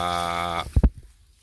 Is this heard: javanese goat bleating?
yes